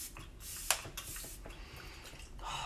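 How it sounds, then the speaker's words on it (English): Arbonne Let It Set Refreshing Spray, a peppermint makeup setting mist, hisses out of a pump bottle in several short, soft bursts, close by in a quiet room. "it is the Let It Set Refreshing Spray"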